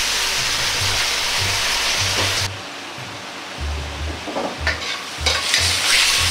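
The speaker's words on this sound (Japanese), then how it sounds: "火を止めてからタレを入れ再度加熱します。" Sauce sizzles and bubbles as a pork and chive omelet reheats in a pan, first as a loud hiss that then drops to softer frying with some stirring and low rumbles.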